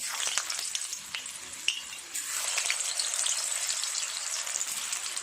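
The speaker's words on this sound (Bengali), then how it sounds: "আলুগুলোও ভেজে নেব এই তেলে।" Potatoes for chicken biryani fry in hot oil, a continuous bright crackling sizzle with occasional pops and the clink of a utensil, steady and close.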